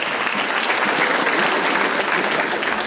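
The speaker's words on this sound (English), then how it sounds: "Let's hear a round of applause." A full room of audience members at a university talk on internationalization breaks into a loud, dense round of applause, many hands clapping steadily and close throughout, with no speech on top.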